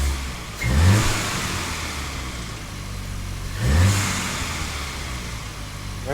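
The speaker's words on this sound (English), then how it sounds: "Rev it like you mean it." A Volkswagen GTI Rabbit Edition fitted with a carbon intake and a Forge blow-off valve idles, then gives two sharp throttle blips a few seconds apart. The engine rises quickly and falls back to a low idle each time, with nobody speaking.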